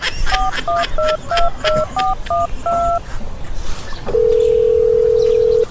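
A quick run of phone keypad tones beeps in an even rhythm, followed by a steady, unbroken dial tone, loud and close.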